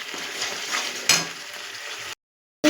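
Spice paste frying in hot oil in a pan on raised gas flame, stirred continuously for a vegetarian Kashmiri potato and pea curry; a steady loud sizzle with one sharp scrape, then a brief silence and the sizzle returning.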